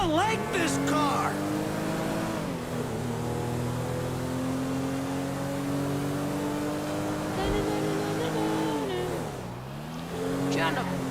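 A car engine in GTA 5 drones steadily at close range, its pitch dipping and rising as the driver eases off and accelerates again, with someone talking over it.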